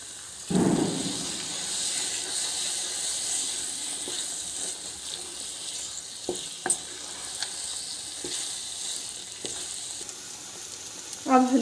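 Carrot halwa with raisins, cashews and almonds frying in ghee in a pan, a steady soft sizzle under occasional scraping and clinking strokes of a spoon, with a louder clatter at the start and end.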